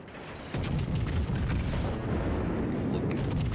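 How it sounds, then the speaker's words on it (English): Battleship artillery fire in World of Warships, with a sudden heavy boom at about half a second followed by sustained rumbling gunfire and explosions that stay loud throughout. "enemy battleship rounds out over the mountain"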